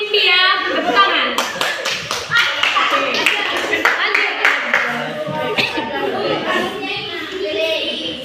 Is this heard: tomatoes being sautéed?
no